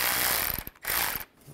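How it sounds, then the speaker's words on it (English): A ratchet with a 16 mm socket tightens a turbo clamp on a 2007-2013 Mini Cooper S: two bursts of quick, close mechanical clicking with a short pause between, no talking. "I'm just going to take a 16 millimeter socket. Just get this clamp started."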